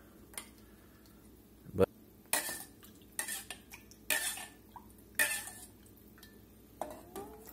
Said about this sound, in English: Get that cream mixed in there real good.